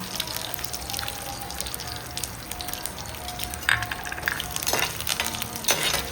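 Steady sizzling of round dried chillies, mustard seeds and curry leaves frying in hot oil for a tempering, with occasional pops and a faint clink of stirring.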